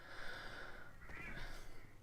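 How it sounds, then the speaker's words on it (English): A cat cries outside a door, a thin, drawn-out meow followed by a second rising call, faint and slightly muffled over a low room hum. "And there's a cat outside my door."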